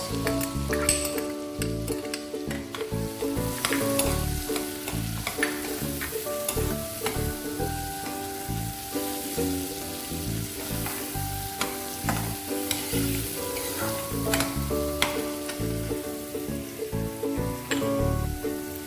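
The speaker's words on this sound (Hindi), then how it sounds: "घी गरम हो चुका है। अब हम डालेंगे इसमें प्याज," Onions drop into hot ghee and fry with a loud, dense, continuous sizzle, crackling steadily up close while a spoon stirs now and then, without any voices.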